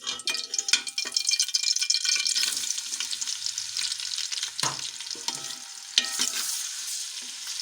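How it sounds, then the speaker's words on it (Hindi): Sliced onions crackle and sizzle steadily in hot oil, with occasional sharp clinks and scrapes of a spoon stirring through the pan, close and fairly loud, no voices. "पहले हम ऑयल लेंगे। इसमें हम प्याज डाल देंगे।"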